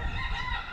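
A rooster crows on a farm in Amadeo, Cavite, a short, fairly loud call close by with other fowl sounds mixed in.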